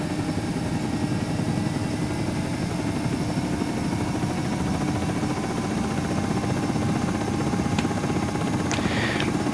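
A UH-60M helicopter spools up in the Aerofly FS 4 simulator, its engines giving a steady, dense turbine whine with a constant rotor drone that fills the whole stretch at an even, fairly loud level.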